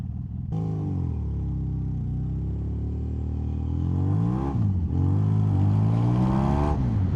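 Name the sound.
Yamaha XJ600 motorcycle turning around and riding off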